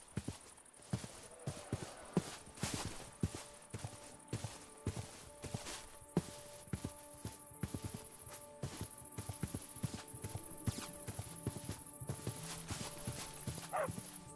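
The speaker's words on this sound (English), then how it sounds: "I got two skeleton horses now." Skeleton horse hooves clip-clopping in the Minecraft video game, a steady run of quiet rhythmic clops over faint background hiss.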